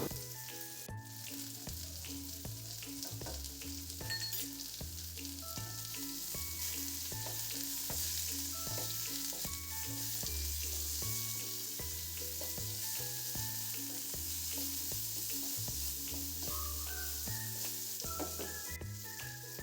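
Bitter gourd, potato and green chillies fry in a pan with turmeric and salt for a Bengali uchhe aloo begun bhaja, giving a steady close sizzle throughout with music playing underneath.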